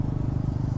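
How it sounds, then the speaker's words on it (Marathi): A TVS Ronin motorcycle rides along a road with a steady, low, throbbing engine rumble, close and continuous for a brief moment. "ही आहे TVS रॉनिन आणि मागे आहे माझी गाडी"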